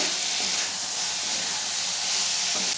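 Mixed winter vegetables and spices sizzle steadily in a pan as they are stir-fried for a vegetarian khichuri, a dense continuous hiss close up with no talk.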